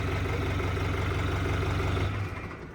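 A tractor engine running at idle, a steady loud low throbbing rumble close by that drops off in the final half second as it cuts away.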